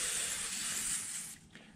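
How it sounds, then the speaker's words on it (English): Aerosol wax and grease remover sprayed from a can onto a rag while prepping a 1955 Chevy hardtop, a close steady hiss lasting about a second and a half before tapering off, with no talking. "I spray it on the rag."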